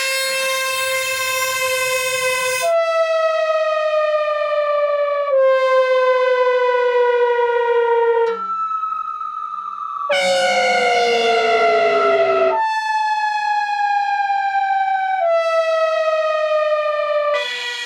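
A synth with Prophet-like brass tones from the Soundpaint library plays sustained chords and downward falling effects, with bright harmonic stacks that bend and sweep lower, repeated as a series of loud separate phrases.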